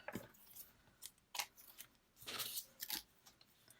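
Scissors cutting a paper letter, a few quiet close snips and crunchy paper rustles in uneven bursts with brief pauses between cuts.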